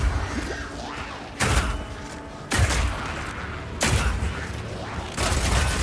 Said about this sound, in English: This one works just like a classic sniper rifle.